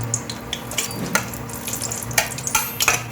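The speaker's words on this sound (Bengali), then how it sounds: "তেজপাতা, শুকনো লঙ্কা, দারচিনি, লবঙ্গ, গোলমরিচ, এলাচটাকে আমি ফাটিয়ে দিচ্ছি" Whole spices (bay leaf, dried chilli, cinnamon, cloves, peppercorns, cardamom) crackling in about two tablespoons of hot white oil, with irregular sharp pops and sizzles over a steady hiss.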